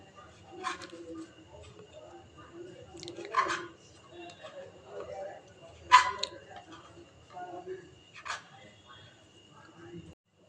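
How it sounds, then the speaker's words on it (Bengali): A knife saws through the crusty edges of bread slices in short, regular crunchy strokes, close and moderately loud, with a voice talking in between. "ব্রেড নিয়ে নিয়েছি, এইভাবে কেটে নেব ধারগুলো।"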